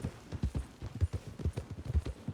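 A horse's hooves clip-clop at a steady walking pace on the ground in the Red Dead Redemption 2 video game, quiet and rhythmic with evenly spaced thuds throughout.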